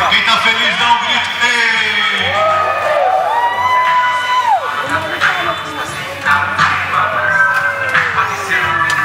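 A crowd on a beach-front promenade during a group bicycle ride shouts, whoops and cheers loudly and continuously, with excited voices and children's shouts mixed in.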